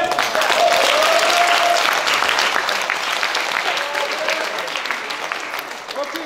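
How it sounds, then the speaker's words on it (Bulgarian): An audience at a lecture claps in a dense, sustained round that gradually thins and softens toward the end. "Добре, и аз сега пак ръкопляскайте!"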